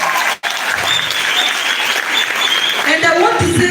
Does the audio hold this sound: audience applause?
yes